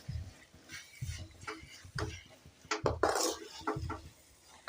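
A spoon stirring halwa with cashews and almonds in a metal pan, giving repeated scraping and clinking strokes in a steady rhythm, close and fairly clear with no talk.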